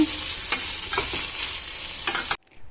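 Doddapatre leaves fry in a hot pan with a steady loud sizzle, broken by a few scraping strokes of a stirring spoon, then the sound cuts off abruptly near the end.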